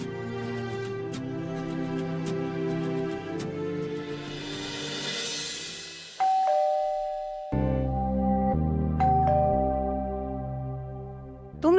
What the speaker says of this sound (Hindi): तुम लोगों को घंटी सुनाई नहीं दे रही है?